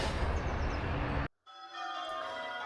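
Church bells ring at St Cuthbert's Church in Lytham, a dense wash of tolling at steady loudness, cut by a brief silence before the ringing resumes with clear sustained tones.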